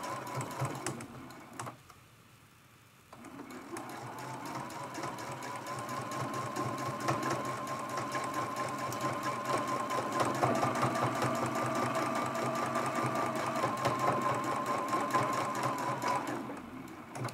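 A sewing machine quilts through the layers of a teapot mug rug, a fast even needle chatter that pauses briefly near the start, then runs steadily at close range without talk.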